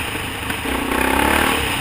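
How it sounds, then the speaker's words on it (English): A KLX dirt bike engine runs close and loud as it revs between gear changes, with a rough, crackling note that rises over a brief moment. "You can hear all my backfire in there, in between gears."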